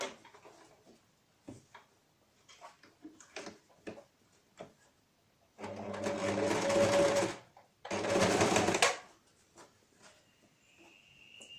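Sewing machine stitching a narrow rib seam on a cloth mask, two loud sustained runs of fast mechanical whirring close by, set between quieter clicks and handling of fabric.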